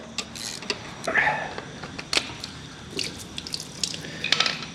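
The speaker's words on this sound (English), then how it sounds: "Little antifreeze there that didn't drain out for some reason." Leftover antifreeze drains and drips from a removed hose on a Kubota 900 RTV engine, with scattered splashes and trickles close by and some faint metallic handling noises, no voices.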